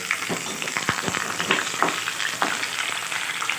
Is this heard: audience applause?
no